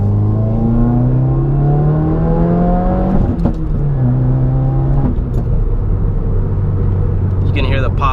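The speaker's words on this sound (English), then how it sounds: "You can hear the pops in the back from the muffler delete from Nameless" Exhaust of a 2018 Subaru WRX with a Nameless muffler delete. Loud nearby revving rises through gear shifts, with a few sharp pops and crackles from the exhaust, and a voice can be heard over it.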